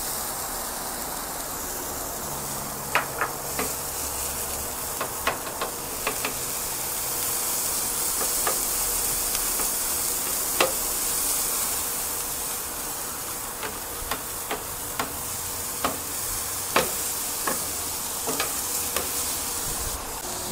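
Onions sizzle in oil on a Vevor 22-inch flat top griddle, a steady frying hiss with scattered pops and crackles plus occasional scraping clicks from stirring, heard alone throughout.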